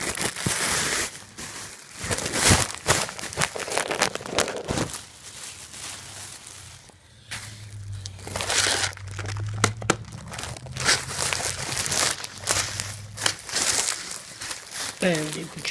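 A plastic bag crinkles and rustles loudly and continuously as a water-damaged phone is put inside it, with a person talking intermittently over the crumpling.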